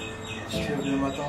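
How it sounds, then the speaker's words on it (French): Birds chirp and whistle on a morning in Madagascar, soft, brief calls over a steady outdoor background hiss with no talk. "t'entends les oiseaux siffler, tout ça"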